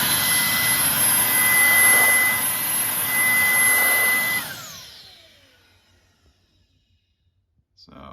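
A RYOBI 18V ONE+ cordless stick vacuum whines steadily and loudly for about four seconds, then winds down and cuts off, leaving near silence with a faint click at the end.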